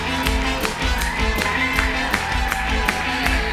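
Studio audience clapping in rhythm to welcome a family arriving on a Turkish TV game show, loud and steady throughout with music underneath.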